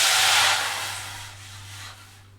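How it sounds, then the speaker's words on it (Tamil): Water boiling hard in a pan on the stove while cooking semiya bagalabath, a steady close hiss and rush that eases off slightly toward the end, with no talking. "தண்ணி நல்லா கொதிச்சிருச்சு"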